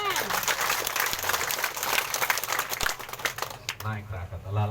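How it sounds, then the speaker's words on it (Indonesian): Crowd applause at a political rally in Rinhat district, uneven scattered clapping with a few louder claps, under faint voices, fading out toward the end as talk resumes. "Tepuk tangan."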